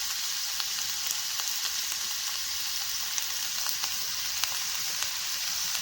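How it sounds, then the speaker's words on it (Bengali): Green chilies and young jackfruit frying in hot oil in a pan, a dense continuous close sizzle with faint crackles and occasional light stirring throughout. "কাঁচা লঙ্কাগুলো লাল লাল করে ভেজে নিলাম এখন এঁচড়গুলো দিয়ে দিচ্ছি"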